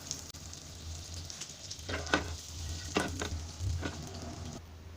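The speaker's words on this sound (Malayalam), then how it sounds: "തവ ചൂടായി, ഇതിലേക്ക് കുറച്ച് ബട്ടർ ഇട്ട് കൊടുക്കാം." Butter melting on a hot tawa while toast is being made, a soft continuous sizzle close by with a few scraping stirs breaking through near the middle.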